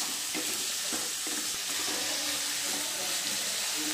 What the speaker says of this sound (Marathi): चांगला कांदा परतून घेते